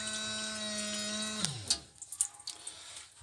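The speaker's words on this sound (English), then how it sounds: "Put your foot on that, and you get running water." A foot-pump tap on the sink of a 1981 Abbey GT212 caravan gives a sustained whining tone that drops away, followed by a few close splashes and drips of running water.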